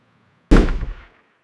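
A single artillery blast from a WW1 bombardment, a sudden loud boom that rumbles and fades within about half a second, isolated against silence.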